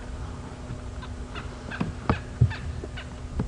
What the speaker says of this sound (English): hear the go-away birds calling again, but not in the frantic alarm calling kind of way